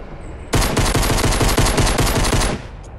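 Automatic gunfire from the video game Fortnite rattles in one loud, rapid, continuous burst lasting about two seconds, close and dominant over a faint background.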